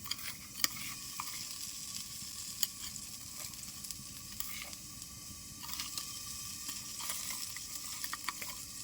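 Eggplant slices sizzle and hiss steadily in hot oil, with a few sharp clicks and scrapes of stirring scattered throughout.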